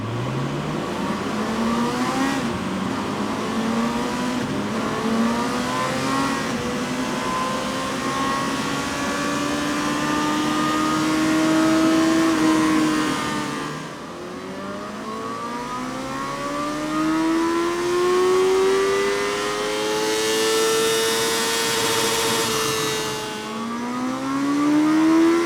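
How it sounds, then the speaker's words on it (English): Honda CB1000 Hornet SP on a dyno pulls hard through the gears, engine note rising in long sweeping revs, dropping between runs, then climbing again, loud and close with no speech. "we're going to do some more dyno runs on it, some more testing"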